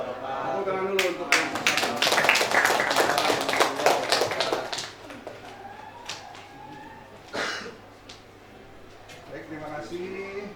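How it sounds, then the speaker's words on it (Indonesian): A classroom group claps after a presentation, a burst of close, sharp hand claps that builds and then thins out into scattered claps, with people talking over and after it. "Tepuk tangan dulu untuk"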